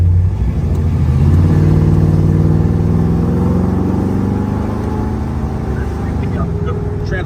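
A muscle car's engine drones loud and close as it drives, its tone rising gradually and easing as the transmission shifts, with a steady low rumble throughout.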